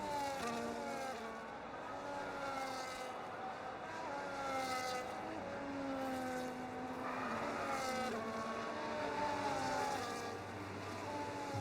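Race car engines from a sim racing league round at the Singapore circuit whine and shift pitch continuously, several cars overlapping at moderate distance with rising and falling revs throughout.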